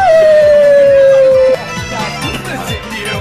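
A dog lets out one loud, drawn-out howl that slides gradually downward in pitch for about a second and a half, then gives way to rougher, noisier sounds.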